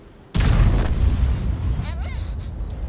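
A tank cannon fires in World of Tanks, one sudden loud, close boom that rolls on with a long rumbling decay, faint whining tones trailing after it.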